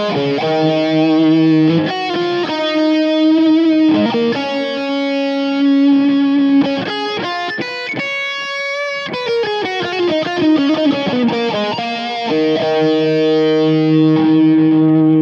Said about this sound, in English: I added some moderate chorus, some tape delay, and finally some spring reverb.